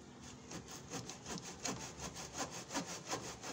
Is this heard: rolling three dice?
no